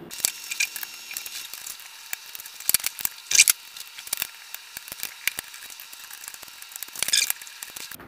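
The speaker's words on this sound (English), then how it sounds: "With these tiny screws, it's really hard to not strip them sometimes." Tiny screws worked loose inside a laptop with a small screwdriver, giving close, dry ticking and scraping clicks in irregular bursts over a faint hiss.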